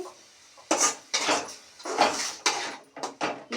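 A tomato and egg curry is stirred in a pan. A spoon gives several quick, clattering scrapes against the metal in irregular bursts, close and fairly clear, with quiet gaps between them and no voices.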